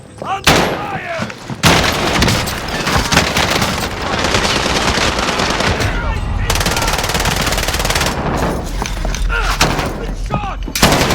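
Loud automatic gunfire and a frag grenade blast fill a Call of Duty Warzone match on Rebirth Island, with dense rapid bursts close by, brief gaps, and game voice callouts mixed in.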